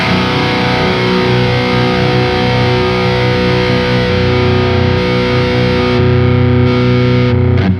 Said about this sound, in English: right now I'm using the first overdrive, and you can hear when I put it on